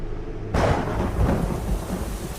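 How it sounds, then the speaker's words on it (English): A sudden loud thunder crack breaks over steady heavy rain, then rumbles on broadly as the downpour continues, with no voices. "The next crack of thunder was so loud I felt it in my chest."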